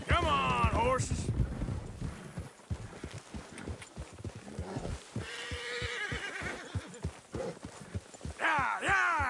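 Horses gallop in Red Dead Redemption 2, with steady clip-clop hoofbeats, a whinny at the start and another near the end, while someone shouts encouragement over the running herd.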